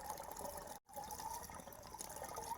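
Steady rushing of water pouring into a battery sprayer tank, constant and close, broken by one brief drop-out before the flow resumes.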